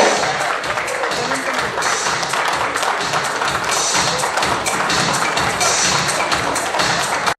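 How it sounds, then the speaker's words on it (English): A large audience clapping and cheering to welcome a speaker on stage at a smartphone launch event, with loud, sustained, dense applause throughout and voices mixed in. "Let's welcome him with a big round of applause"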